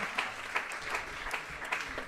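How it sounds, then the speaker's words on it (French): An audience applauds at an opening evening event in Geneva, welcoming a leader named Olivier; steady clapping holds through the brief moment with a few sharper claps standing out. "Donc, applaudissons Olivier."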